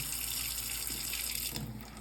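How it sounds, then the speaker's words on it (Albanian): Tap water runs steadily from an open faucet while a Kangen K8 water machine is being cleaned, a close, continuous splashing stream lasting about two seconds. "Në këtë moment ne hapim ujin"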